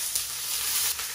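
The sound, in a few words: red onion frying in vegetable oil in a pan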